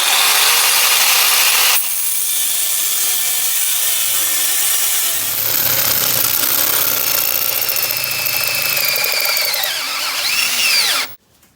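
A power saw cuts pieces for an off-road riding mower's front bumper, running as a loud, steady whining grind close by for about eleven seconds, with the pitch shifting partway through before it cuts off abruptly.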